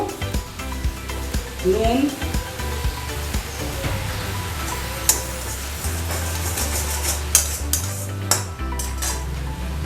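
Garlic egg gravy thickened with cornflour stirred in a pan, with intermittent spoon scrapes and clinks against the metal over a soft sizzle and low hum, while a voice speaks briefly early on.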